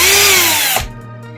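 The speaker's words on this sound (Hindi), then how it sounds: "अब ड्रिल करके देखते हैं।" A Bosch GSB 120LI cordless drill spins at high speed, loud and close, then winds down and stops about two-thirds of the way through, leaving a quiet tail.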